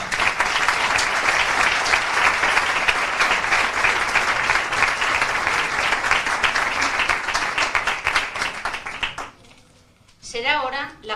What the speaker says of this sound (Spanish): Despedimos con un fuerte aplauso al abanderado 2019, Daniel Sáenz Santos.